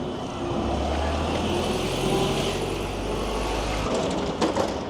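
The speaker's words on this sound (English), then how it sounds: "Goddamn bus." A bus passes close by at Neasden station in London, its engine rumble swelling and holding with a low drone, then fading off with a brief clatter at the end.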